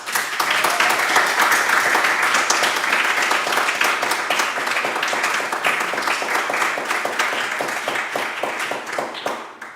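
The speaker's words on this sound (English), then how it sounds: "That was lovely that you clapped and stuff." An audience at a spoken-word poetry event applauds loudly and steadily for about ten seconds, dense clapping that tapers slightly at the end.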